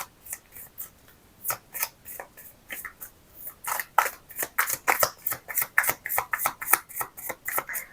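Healing cards being shuffled by hand, a run of crisp riffling bursts that start sparse and grow into a steady, rapid rhythm of close, papery flutters with no talking.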